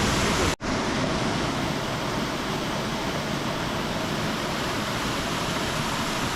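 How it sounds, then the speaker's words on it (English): A waterfall along the Road to Hana on Maui gives a steady, dense rush of water that fills the whole clip, broken only by one brief dropout near the start. "look at that waterfall"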